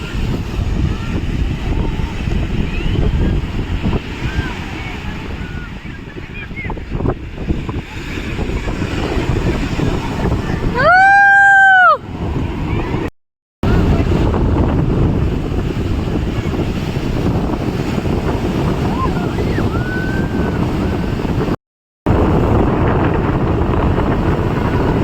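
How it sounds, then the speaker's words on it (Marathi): Sea waves and wind at Khavne beach on the Konkan shore roar steadily and loudly, with gusts buffeting the microphone, a brief high whistling tone partway through, and two short dropouts of silence. "इकडे समुद्र आहे"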